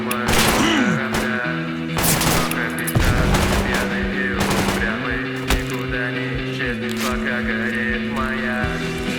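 Gunfire in a forest firefight in the video game STALKER Radiophobia, rapid bursts of automatic rifle shots in quick repeated volleys, loud and close, under a steady low musical drone with talk over it.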